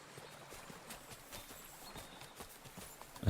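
A horse's hooves clip-clop in a steady walking rhythm in the medieval game Kingdom Come: Deliverance 2, soft and fairly close against quiet ambience, with a brief louder knock at the very end.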